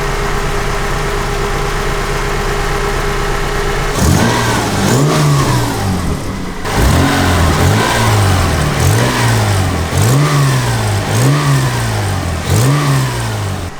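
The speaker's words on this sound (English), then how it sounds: "there's like a little flapping noise that you can hear." A Toyota MR2 engine with an exhaust leak at the Y pipe where the headers join, idling steadily and then revved repeatedly in a regular rising-and-falling pattern, with a rough flapping rasp riding on the exhaust note, close and loud.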